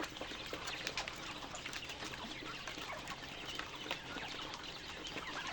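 Native village chickens cluck and chatter continuously at close range, a busy flock sound over steady background noise, with no talking.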